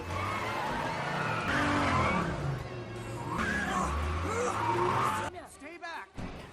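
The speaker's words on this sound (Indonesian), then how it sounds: "mobil Omar masuk ke dalam mall dan jatuh terguling di sana." A getaway car skids through a shopping mall during a film chase scene, then rolls over and crashes, with a long tire squeal and engine roar followed by sharp impact bangs near the end.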